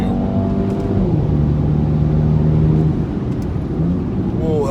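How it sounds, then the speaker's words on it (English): A four-cylinder turbocharged car engine revs hard and climbs in pitch, a steady, loud turbocharged drone that dips briefly before surging again near the end. "So just listen to that engine too."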